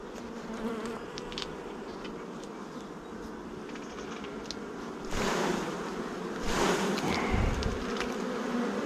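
Dense, steady buzzing of many honey bees swarming an established hive opened during a beginner's varroa mite treatment, close and continuous, with rushing, wind-like surges swelling over the last few seconds.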